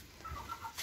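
A combative rooster and a hen in a nesting area, giving short, close clucks in a brief, quiet burst.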